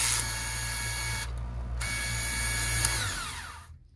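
Knife sharpener running on a straight knife fabric cutting machine: a loud, steady whining motor hum with a grinding buzz, a short dip in the middle, then a winding-down sound before it cuts off.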